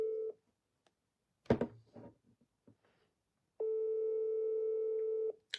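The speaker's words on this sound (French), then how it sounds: "Ça sonne." A telephone call tone on a line to Cameroon: a short tone at the start, a few clicks and knocks, then a long steady ringing tone lasting about two seconds, clear and alone.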